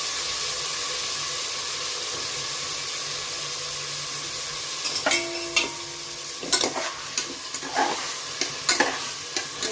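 Vegetables with beans and pods sizzle steadily in a hot pan, then a spoon stirs them with a run of scraping, clattering strokes close by.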